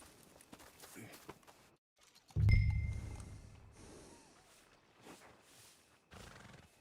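A horse whinnies loudly and snorts, with hoof clip-clops and soft footsteps around it, in the Western video game Red Dead Redemption 2, fairly close and without speech.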